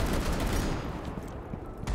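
Wall-penetrating gunfire in a tactical shooter video game, a P90 nearby, comes as a dense, continuous burst of shots that stays loud and steady throughout, with no talking.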